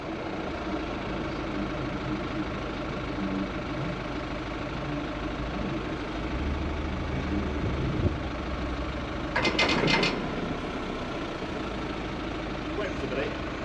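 Steady low engine rumble of idling motorcycles, continuous throughout, with a brief louder burst near the end and faint background chatter.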